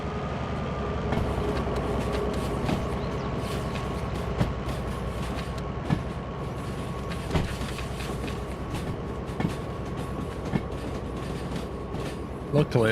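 A train running in a railway simulation game, a steady rolling rumble with a sustained tonal hum and periodic clicks of wheels over rail joints, continuous and fairly close throughout.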